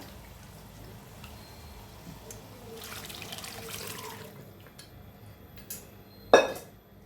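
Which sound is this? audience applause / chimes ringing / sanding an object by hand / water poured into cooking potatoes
water poured into cooking potatoes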